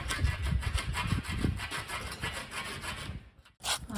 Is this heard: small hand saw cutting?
yes